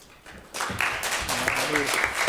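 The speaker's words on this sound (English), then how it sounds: "we got the delayed kind of clap" Audience at an East Metro education event breaking into applause after a moment of quiet, scattered claps building into a steady round with a few whoops mixed in.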